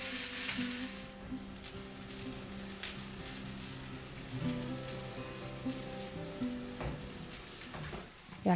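Thin slices of food frying in a pan in a home kitchen, giving a steady, close sizzle with soft crackling and a few utensil clinks, no talking.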